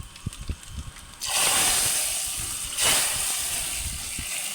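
Hot fried tempering with asafoetida is poured into a village-style lentil dal. Light clinks give way to a sudden loud, hissing sizzle that surges again midway, then simmers down to a steady crackle.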